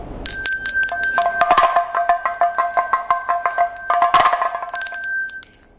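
A ritual bell rung during a Dakini dance practice, ringing out in a steady, rapid stream of bright metallic strikes with sustained overtones, loud and close, swelling in two bursts before cutting off near the end, with no voices.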